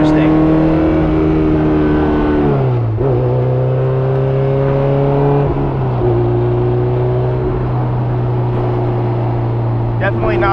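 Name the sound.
Honda S2000 with built K24 engine revving and downshifting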